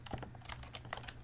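Fingers type quickly on a computer keyboard while entering a short line of code, giving a steady run of light, close key clicks with no voice over them.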